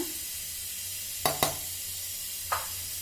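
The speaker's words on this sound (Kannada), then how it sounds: "ಈ ಬಿಸಿನಲ್ಲೇ ಅರಿಶಿನ ಪುಡಿ ಇದಕ್ಕೆ ಸೇರಿಸ್ಕೊಳ್ಳೋಣ" Turmeric powder added to whole spices dry-roasting in a hot pan for biryani garam masala: a steady soft sizzle under three short, sharp stirring scrapes, alone and close.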